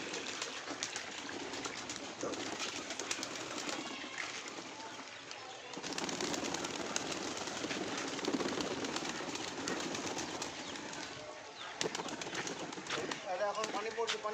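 Pigeons in a loft coo and flutter at a moderate distance under a continuous wash of background noise, with people's voices intermittently audible alongside.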